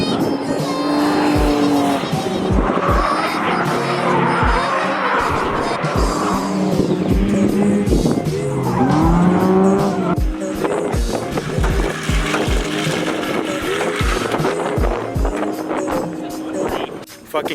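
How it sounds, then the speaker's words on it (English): A stock Nissan 350Z skids on dirt at a track, with the engine revving up and down in repeated surges and the tires scrabbling and squealing nearby. "Fucking Chris is gonna bust some fucking crazy skids right here in the dirt."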